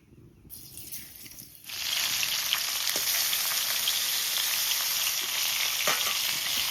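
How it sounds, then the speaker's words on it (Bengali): Rohu fish frying in hot oil in a pan, a loud steady sizzle that bursts in after a brief quieter stretch and holds with occasional pops. "মাছ ভাজা বসিয়ে দিলাম"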